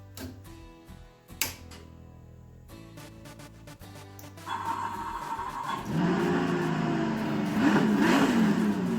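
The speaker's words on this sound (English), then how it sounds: "And the engine's not on. So what are we going to do? Well, quite simple. We're going to start it up." A sprint car engine in the iRacing simulator cranks and clatters through irregular starting sounds, then catches and builds into a steady, rising revving roar that grows louder toward the end.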